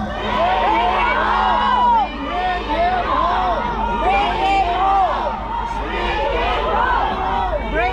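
A large crowd shouts and chants together in rhythmic bursts, voices overlapping loudly in a dense outdoor throng.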